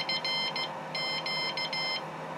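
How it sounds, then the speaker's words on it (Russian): A homemade telegraph key keyer beeps as it enters settings mode: a run of short, evenly spaced electronic tones, a pause, then another rapid burst, fairly quiet with no voices. "Вот, он дал характерный звук, что перешел в настройки, а потом один сигнал издал."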